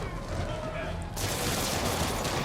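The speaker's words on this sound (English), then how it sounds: "Sir, please stop shooting me." Gang members firing guns at Spider-Man in the video game Marvel's Spider-Man Remastered, with dense, rapid gunfire bursts swelling loudly in the second half over a steady game mix.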